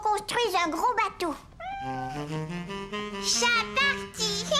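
An animated cartoon cat gives a string of meows and drawn-out cries with wavering pitch. A voice speaks among the calls, and a high, sustained tone comes in partway through.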